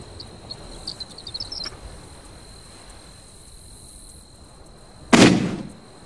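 Quiet outdoor ambience with faint chirps and a steady high tone, then a single sharp, loud blast near the end that quickly fades.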